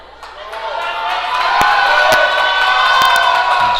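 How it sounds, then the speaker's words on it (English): Crowd at a powerlifting regional championship cheering on a Masters lifter, loud whoops, shouts and clapping swelling into a dense, close roar. "she gets some good encouragement from the crowd"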